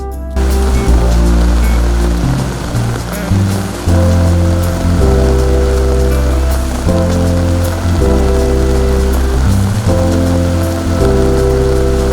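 Heavy rain drums loudly and steadily on a surface, a dense continuous roar with low droning tones underneath.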